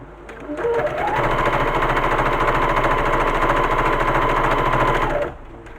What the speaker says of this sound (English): Then you're going to sew all the way down to the corner.